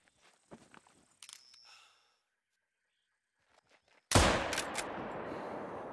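Rifle gunfire in the hunting game theHunter: Call of the Wild, set in a swamp where wild pigs are hunted: a loud, dense burst of shots erupts after quiet footsteps and breathing and carries on, near and harsh, to the end.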